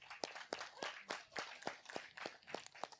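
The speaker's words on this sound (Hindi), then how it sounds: "सभी का जोरदार तालियों से स्वागत कीजिए" Sparse, fairly quiet handclaps at a steady, evenly spaced rhythm as panelists are welcomed at a Hindi discussion gathering, with no talk over them.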